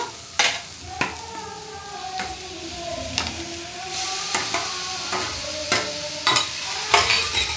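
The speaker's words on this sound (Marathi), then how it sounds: "आता आपण हे वांग जे स्मॅश करून घेतलेलं ते यात घालूया" Smashed eggplant sautéed with salt in a pan for bharit, heard as a soft hissing fry punctuated by a steady series of sharp spatula scrapes and knocks, roughly one every half second to second.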